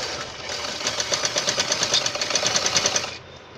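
Sewing machine stitching piping onto a katori blouse, a rapid, even mechanical chatter of the needle running steadily for about three seconds before stopping, close and fairly loud with no talking.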